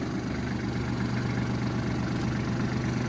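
A 2005 Kubota KL23 tractor engine idles steadily at close range, a continuous low, even mechanical drone with no talking.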